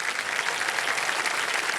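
A studio audience at a quiz show claps steadily in warm welcome for the contestants, a dense, even burst of applause with no voices over it.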